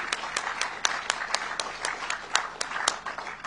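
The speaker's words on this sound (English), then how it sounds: "I think they deserve another round of applause." A crowd at an event near the US-Mexico border wall construction in Texas applauds, with steady clapping heard from a moderate distance and no voices.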